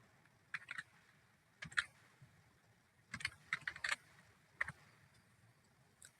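Computer keyboard typing in short bursts of quick key clicks separated by pauses, close and crisp in a quiet room.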